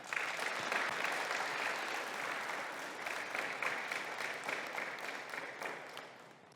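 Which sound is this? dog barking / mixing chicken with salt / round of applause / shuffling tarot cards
round of applause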